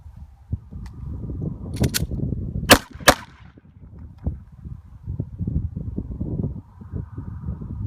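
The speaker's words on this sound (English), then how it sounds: "Draw and fire 2 rounds" A handgun fires two rounds on an outdoor shooting range during a concealed carry qualification, two sharp cracks about a third of a second apart over steady low background rumble.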